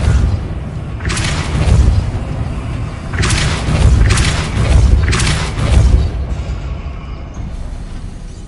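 Repulsor spell blasts cast in Hogwarts Legacy, four loud booming bursts with whooshing energy at roughly one-second intervals, followed by quieter ambience.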